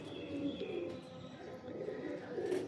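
Pigeons coo low and steadily at a breeder's loft, a continuous close murmur with faint chirps above it.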